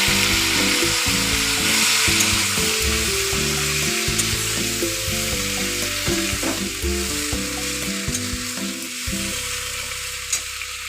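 Water hits a hot pan of frying cauliflower-stalk chorchori seasoned with mustard paste, setting off a loud, continuous sizzle and spatter that eases slightly toward the end, with no voices.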